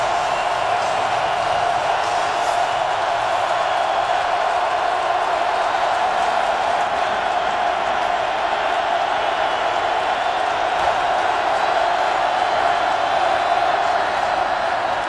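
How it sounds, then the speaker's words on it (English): A packed Fargo Dome crowd at an FCS semifinal football game roars in a loud, sustained, unbroken wall of cheering. "But now they'll have to contend with this Fargo Dome crowd."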